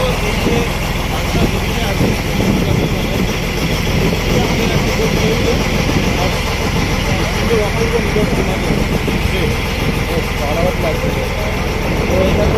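An eco camp boat's engine runs steadily as the boat heads along a mangrove creek near Bagda sea beach, a loud, close, unbroken drone that fills the whole stretch.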